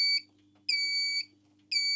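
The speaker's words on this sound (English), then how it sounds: "stop this annoying beep" Warning beep of a Creworks HPA air compressor at 4000 psi: loud, shrill electronic tones of about half a second each, repeating evenly with short gaps, over a low machine hum.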